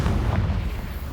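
Confringo blasting spell explosion in the video game Hogwarts Legacy: a loud, close, rumbling boom whose heavy low roar fills the whole moment and slowly fades.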